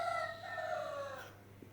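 A rooster, one of a flock of hill Laijja chickens in a Bangladeshi yard, gives a single crow that starts loud with a long held note and then trails off.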